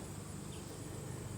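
Honey bees buzz steadily at a bee yard in midsummer, a dense continuous hum from many insects that holds at an even level throughout.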